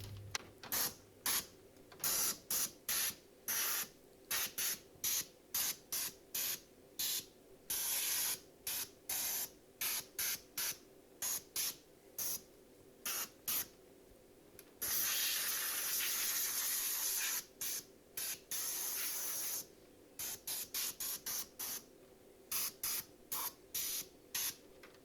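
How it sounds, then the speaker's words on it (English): Compressed air blasts dust off the ignition coils of a GM 4200 Vortec engine with 200k miles, in dozens of sharp, close hissing bursts with a couple of longer sustained blasts midway and no talking. "We will then use compressed air to get rid of any dust and debris on top of the coils."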